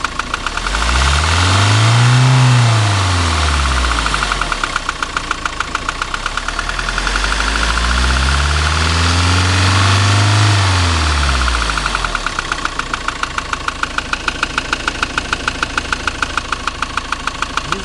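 A 2007 Ford Transit engine revved twice, rising and falling in two long sweeps, with an unidentified knocking beneath a loud, close, steady mechanical clatter.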